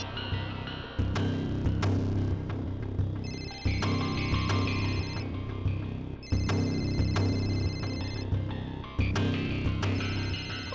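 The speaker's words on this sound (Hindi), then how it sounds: "और ये जो बेल बज रही है, इसी नंबर से फोन आया था।" A phone ringtone repeats in regular bursts, a tonal electronic melody sounding three or four times with brief gaps between rings.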